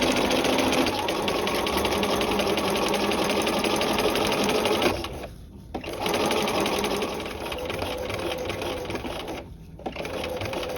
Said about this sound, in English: back tack, and then sew along this dart